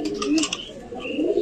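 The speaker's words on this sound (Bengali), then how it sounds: "রিয়েল ভাইয়ের বাসায় এসে আমরা তার কবুতরগুলো চেক দিই" Racing pigeons in a Rajshahi loft, being checked for fitness before a race, give soft, throaty coos that repeat in short rolling phrases, close by and fairly loud.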